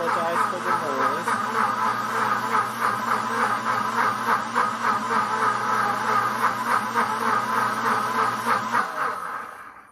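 A deluxe cooking blender runs while making caramel sauce, a loud, steady motor drone with a fast pulsing churn from the agitating cycle, cutting off abruptly near the end.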